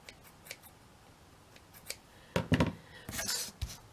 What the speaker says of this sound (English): You can trim any excess off